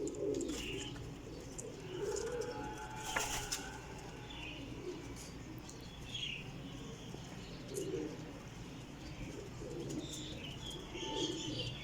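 Pigeons of a teddy-type breeding pair coo softly in repeated low phrases, joined by faint chirps and a brief flutter of wings, with steady ambient noise beneath and no talking.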